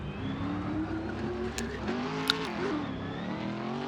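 A drift car on a qualification run accelerates hard with the throttle pushed aggressively, its engine roaring loud and close with rising revs and a brief tire squeal mid-run.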